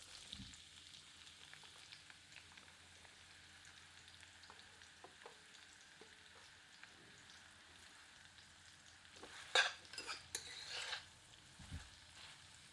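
Onions fry in hot oil with cumin for a goat curry, a soft continuous sizzle with a few louder crackles and stirring scrapes near the end, quiet and close with no talk.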